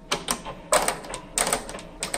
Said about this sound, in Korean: 자동으로 백택이 진행됩니다